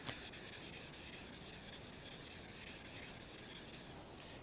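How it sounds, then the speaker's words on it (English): Two sharpening stones rubbed against each other to flatten them, a steady close gritty rasping scrape that continues evenly throughout. "they self-flatten, you rub them up against each other"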